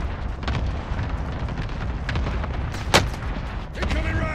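An incoming artillery round explodes in Call of Duty: Modern Warfare, a sharp blast over a rumbling background of distant gunfire and battle noise.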